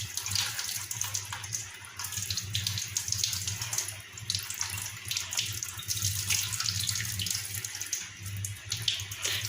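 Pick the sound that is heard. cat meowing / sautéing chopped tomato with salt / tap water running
tap water running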